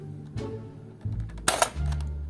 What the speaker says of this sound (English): Nerf gun